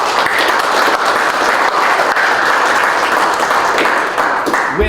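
A roomful of people at a chamber of commerce legislative breakfast applauds, dense, loud, even clapping sustained for about five seconds with no voices on top.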